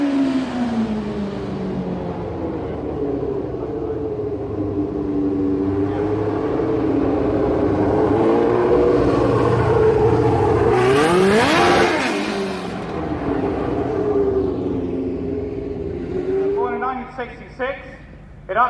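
A classic British sports car from the E-type era, a glass-fibre-bodied GT, revs its engine loudly and continuously with rising and falling pitch, peaking in a sharp high rev near the middle before settling, with voices around it.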